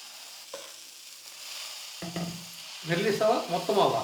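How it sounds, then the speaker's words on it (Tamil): Dosa batter hits a hot griddle with a soft, steady sizzle that builds and grows louder toward the end, mixed with light scraping and handling noises, close up. "இப்போ நம்ம தோசை ஊற்றிக்கலாம் கல் நல்லா காஞ்சிடுச்சு"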